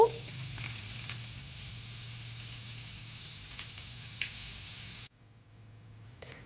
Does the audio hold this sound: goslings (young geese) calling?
no